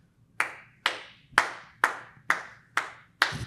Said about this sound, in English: So clap out like the first two lines.